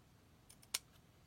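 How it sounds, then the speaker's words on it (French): A single crisp snip of scissors cutting paper, close and quiet, with a couple of fainter snips just before it and near-silence around. "je m'aventure à couper au ciseau"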